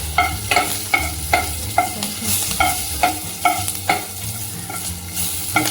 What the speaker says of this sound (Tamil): பச்சை மிளகாய் இந்த பதத்தில் வதக்கினா தான் உங்களுக்கு நல்லாயிருக்கும், டேஸ்ட் இறங்கும்.